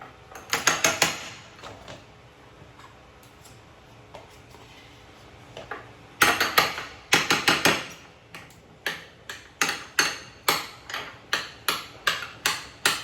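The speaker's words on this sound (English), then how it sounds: "I want to break that butter up some." Butter being broken up with a utensil in a bowl for a rub: close, sharp clacks and taps in a quick burst, a quiet pause, then a steady run of repeated knocks.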